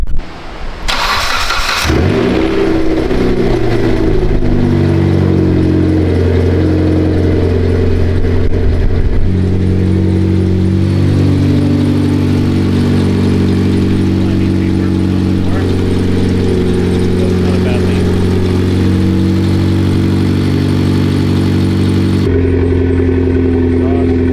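A Mitsubishi Lancer Evolution X cranks and catches on a start after a rebuild, then idles steadily and loudly up close with a constant drone, with a brief blip near the end.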